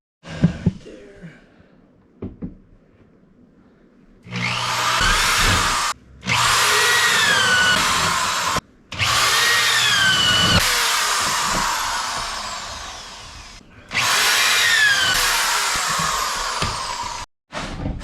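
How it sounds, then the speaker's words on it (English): A power drill bores holes through wooden framing during a bathroom remodel in four long, loud whining bursts separated by short pauses, with small knocks before the first. "I'm going to drill some holes."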